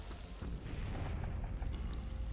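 Heavy, continuous booming rumble of artillery cannon fire in the video game Valiant Hearts: The Great War, Verdun battle, loud and dense throughout with no voices.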